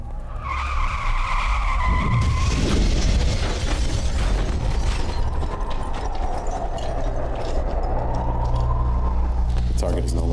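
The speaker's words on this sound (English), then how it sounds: "Accelerating car to a high speed." A car accelerates hard to high speed, its engine roaring up before tyres screech into a long skid, with rough mechanical and impact noises running through the loud sequence; voices are also present.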